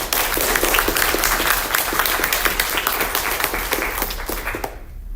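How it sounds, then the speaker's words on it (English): Steady applause from a crowd, many hands clapping for several seconds before fading out at the end. "Let's give him a round of applause."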